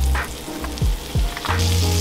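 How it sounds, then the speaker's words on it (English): Octopus pieces frying in a pan with butter, olive oil, garlic and diced onions, a loud steady sizzle with a few stirring scrapes, close up and with no talking. "Now that the octopus is tender, we'll start the frying process"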